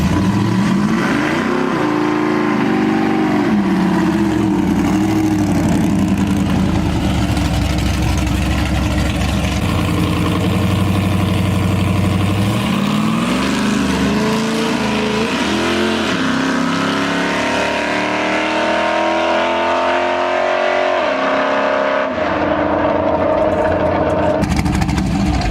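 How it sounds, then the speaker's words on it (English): A big-cam Camaro drag car's engine roars loud and close, revving and pulling through a run with rising and falling pitch, then fading toward the end with no talk. "we're just gonna let it cool down and let old Gambini take a run real quick"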